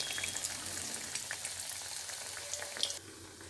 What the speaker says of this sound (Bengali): তেলটা আমার গরম হয়ে গেছে একটু ছিটিয়ে দেখে নিয়েছি এবার এই যে এখান থেকে এই একটা করে নেবো নিয়ে তেলের মধ্যে এভাবে দিয়ে দেবো